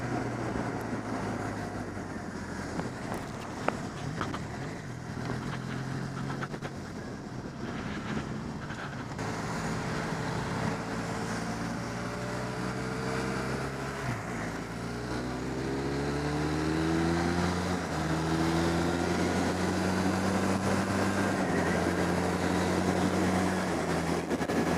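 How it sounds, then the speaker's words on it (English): A Benelli Leoncino motorcycle on a demo ride, its engine note rising and falling as it shifts up through the gears, with steady wind and road noise throughout. "There you go, swiftly up through the gears."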